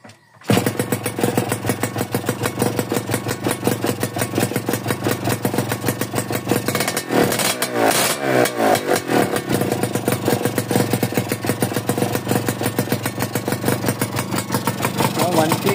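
A Yamaha motorcycle with a newly replaced clutch plate and clutch lining starts with a sharp crank, revs briefly, then settles into a steady, close, loud idle with a rapid regular putter.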